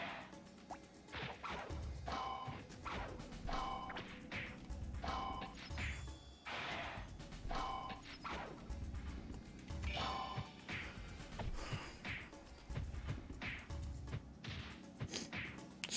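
Smash attacks in the dungeon RPG Elminage Gothic, repeated sharp crashing hits in a steady rhythm, roughly one every couple of seconds, loud over a constant game music backdrop with no talking.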